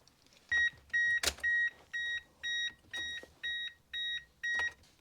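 AEM wideband air-fuel controller in an MX5 Miata turbo build beeping on power-up: eight or nine evenly spaced, clear electronic beeps, close and alone.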